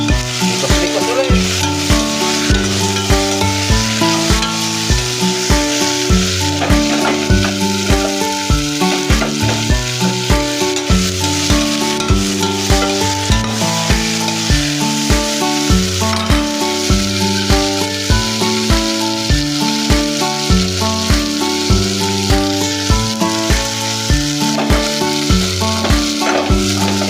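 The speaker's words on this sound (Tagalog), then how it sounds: "Prito, isdang galunggong." Galunggong fish fry in a pan of oil, giving a loud, continuous sizzle that runs unbroken over a steady rhythmic background.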